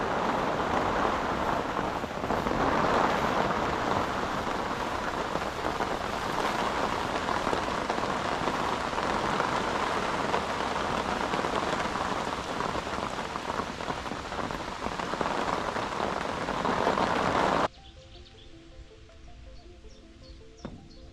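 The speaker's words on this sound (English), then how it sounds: "as I was trying to get some B-roll of the rain" Steady rain hisses down at a lakeside carp fishing swim in Belgium, a dense, even patter with some wind on the microphone, cutting off near the end to quieter ambience.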